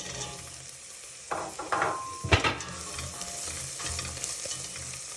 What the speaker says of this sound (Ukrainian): піджарювати цибульку помішую до тих пір, поки цибуля і чесник не зарум'яняться